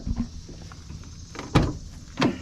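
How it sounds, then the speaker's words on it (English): Rear barn doors on a 2015 Ford Transit short-wheelbase van being handled, giving a low knock followed by two sharp latching clunks near the end, close by and fairly loud. "We got the barn doors here."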